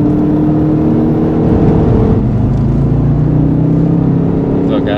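Jaguar car accelerating on a driving track, a loud steady engine drone and whir building smoothly in pitch, with a voice speaking over it.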